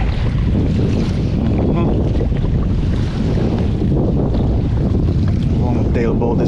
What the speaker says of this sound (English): Long tail boat is going behind me.